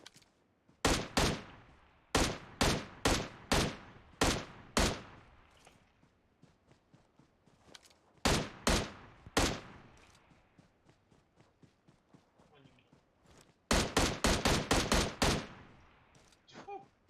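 Video game gunfire comes in sharp, loud clusters of rapid shots separated by quieter gaps with faint footsteps, the last burst a fast string of shots.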